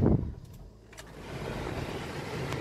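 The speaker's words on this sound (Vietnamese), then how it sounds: "Chúng ta sẽ nổ máy lên nhé." A 2015 Honda City with automatic transmission starts up: a faint click and clunk, a brief pause, then the engine catches and settles into a low, steady idle close by.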